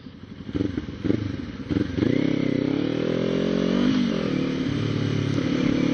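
A Ninja 300 sport motorcycle engine rises and holds a steady loud drone as it passes close by, with some clattering at the start.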